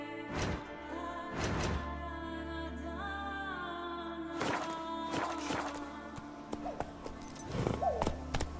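A horse in The Witcher 3 game clip-clops in a steady hoof rhythm, with a couple of sharper thuds and a whinny, close and fairly loud over a faint low game backdrop.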